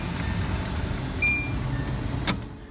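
A Nissan mini truck's heater blower motor running on hot gives a steady low rumbling whir with a slight vibration, close by inside the cab, with a faint whistle and a brief rattle near the end.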